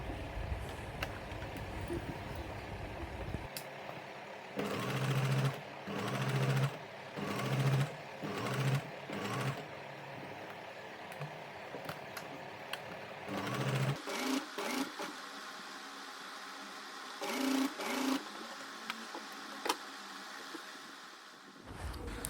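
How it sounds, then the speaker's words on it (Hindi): A sewing machine stitches a high-low flared top in bursts: short runs of rapid mechanical whirring with pauses between, then a steadier longer run near the end, close and fairly quiet, with no talk. "अब ये शेप पर हम पक्की सिलाई लगाएंगे।"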